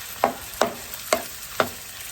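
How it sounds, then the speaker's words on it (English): Ground beef frying with onions and olive oil, stirred with a utensil in four evenly spaced scraping strokes over a steady close sizzle. "I'm just going to break up the ground beef just so it's not in chunks. Mix it in with the onions and the olive oil."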